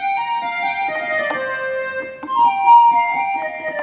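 Accordion voice on an SV800 keyboard plays a short melody, sustained reedy notes shifting in pitch, clear and close with no voices.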